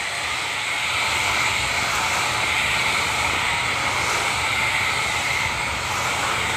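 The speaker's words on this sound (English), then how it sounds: "Just let the Bissell do the work. Just letting it ride along the grout lines is all you really need to do." Bissell PowerFresh steam mop running along tile grout lines, a loud continuous hissing whir with a low motor rumble, steady throughout and alone.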